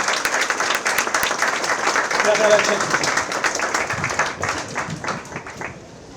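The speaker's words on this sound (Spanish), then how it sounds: "Os pido un aplausazo para mi colega Susana" An audience applauds for six seconds at a talk about death and forensics, dense sustained clapping that swells in the middle and then thins out and fades toward the end.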